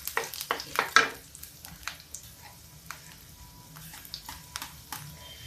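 Garlic sizzles and fries in hot oil with whole spices for a dhaba-style dal tadka, crackling at close range with a few sharp stirring scrapes early on before settling into a quieter, steady sizzle.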